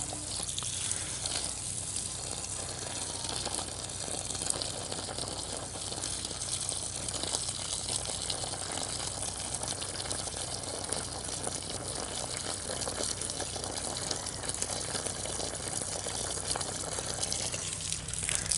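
Steady water pours over garden plants during a thorough watering, a constant close rushing and splashing that runs without pause and without talk.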